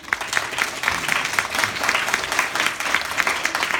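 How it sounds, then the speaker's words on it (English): Audience applause at a church gathering after a testimony: dense, steady clapping from many hands throughout, fairly loud and close, with no speech over it. "Let's give him another round of applause for giving us such a great testimony."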